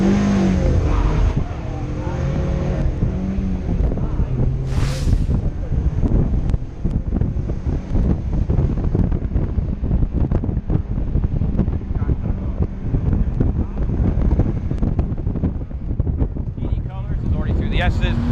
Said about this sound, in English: Nigel Walton in the Mazda MX-5 should be with you now.